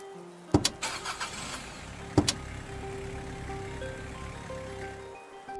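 A car door thuds shut twice, then an engine hums steadily close by, fading out at the end.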